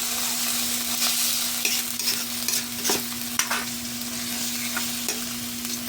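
Salmon sautéed with ginger in a pan sizzles steadily and close, with intermittent scraping and stirring strokes over the constant frying hiss.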